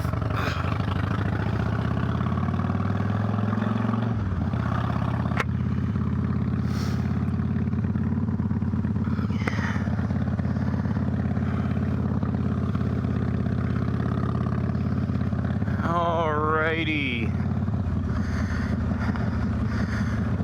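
A 2000 Harley-Davidson Dyna motorcycle with 525 cams is ridden, giving a constant loud low engine rumble over wind noise that changes pitch as it shifts and accelerates near the end.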